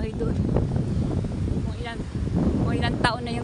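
Strong outdoor wind buffets a phone microphone in a garden where bitter melon is harvested, a steady rumbling roar with gusts, while someone talks loudly over it.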